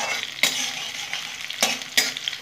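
Crushed garlic fries in oil until reddish, with a soft constant sizzle broken by a few sharp scraping stirs of a spatula.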